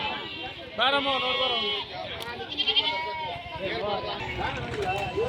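Jawari sheep and lambs at the Haveri livestock market bleat loudly and close by, with repeated wavering calls overlapping one another amid market voices.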